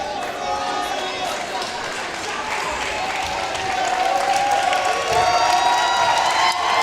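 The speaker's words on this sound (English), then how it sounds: "And the Mitchell Mustang crowd on their feet." At a high school basketball game, the Mitchell Mustangs home crowd is on its feet with sustained cheering, applause and whoops that build louder over several seconds, with a commentator talking over it.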